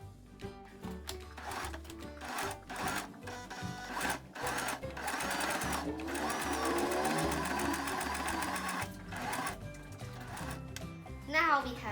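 A sewing machine stitches a zipper pencil case in rapid mechanical bursts, stopping and starting with short pauses, the motor whirring close and clear while a voice speaks over it.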